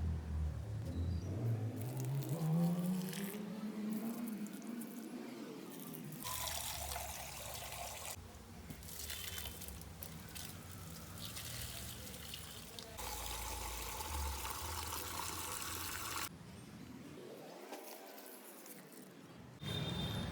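Water poured from a hose or container onto garden plants, a steady splashing trickle that runs almost continuously with a few brief breaks in flow, close to the listener and with no talking.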